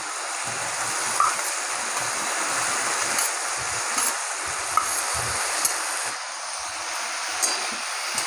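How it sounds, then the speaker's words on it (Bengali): Steady, dense sizzling of onions and potatoes frying in hot oil, a continuous hiss with a few faint clinks, no voices. "এই পেঁয়াজ আর আলু ভালো করে ভেজে নেবো"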